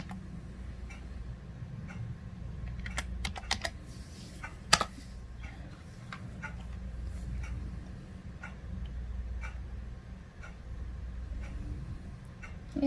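A Wi-Fi password is typed on a laptop computer keyboard as a scattered run of light key clicks, some louder taps mixed in, over a low steady background hum.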